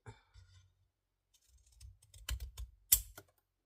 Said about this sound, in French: moi, je vais utiliser le ciseau cranteur. Voilà. Et je vais venir cranter